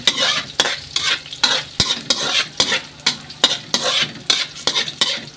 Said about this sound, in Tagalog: Sangkutan na po natin yung luya, sibuyas at bawang.